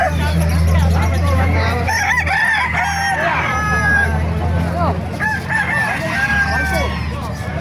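Roosters crow loudly and repeatedly, overlapping one another amid a noisy background of clucking fowl and distant chatter at a chicken market in Calumpit, Bulacan.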